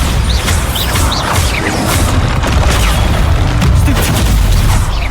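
A Bombarda explosion spell goes off in Hogwarts Legacy amid loud, dense combat bursts. Booms and crashes pile up with sharp magical whooshes across a busy, continuous din.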